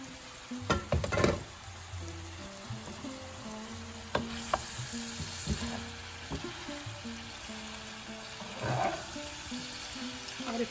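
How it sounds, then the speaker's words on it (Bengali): Capsicum and cumin fry in a pan, a low steady sizzle with occasional spatula taps and stirring clinks, close but fairly quiet. "এখন আমি ক্যাপসিকামটা একটু ভাজা হলে পোস্তটা দিয়ে দেবো"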